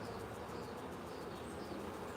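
Honey bees buzzing at a farm hive while a swarm is handled, a steady dense drone that stays close and constant throughout with no talking.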